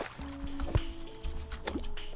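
Water dripping in the video game Terraria, a few separate wet plops spaced about a second apart over a faint background, with no voices.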